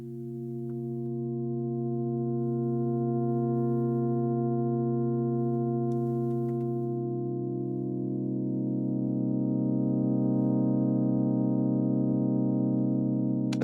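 Korg Opsix synthesizer playing a pure sine-wave tone pitched down one octave, a steady sustained note with a slight shift in tone partway through, loud and alone with no talking.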